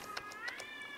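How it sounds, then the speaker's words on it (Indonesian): An agitated cat meows several times in quick succession, each meow close and clear in an indoor room with no other sounds. "Waduh, itu ada kucing ngamuk."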